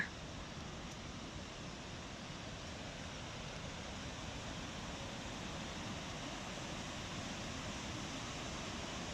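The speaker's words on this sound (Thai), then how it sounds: "ได้ยินเสียงน้ำตกแล้วนะคะ" A steady, broad rush of falling water fills the scene, constant and unbroken, from the Triberg Waterfalls in Germany's Black Forest at a moderate distance.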